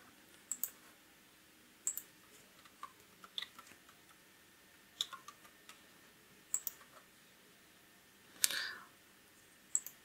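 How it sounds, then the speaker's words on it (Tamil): Someone typing on a computer keyboard: sparse, faint key clicks in small clusters with long quiet gaps between them, alone in a quiet room. "இந்த ஓடிபியை அங்கே டைப் பண்ணிக்கோங்க"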